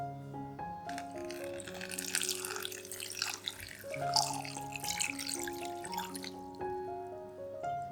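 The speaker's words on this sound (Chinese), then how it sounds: "首先将海带放入大碗里，倒入水将海带泡发" Water pours into a large bowl holding kelp set to soak, a steady splashing stream running beneath loud background music with sustained tones throughout.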